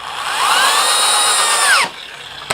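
A power drill spins up and whines steadily, driving a screw into a landscaping block, then stops abruptly, followed by a short faint click.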